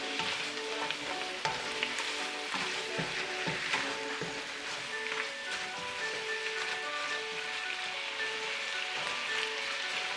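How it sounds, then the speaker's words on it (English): Beef browning in a pan over too-high heat for red beef curry, sizzling and crackling steadily and loudly up close with dense spattering pops throughout, no voices. "Put your heat too high, that way the meat will brown right away."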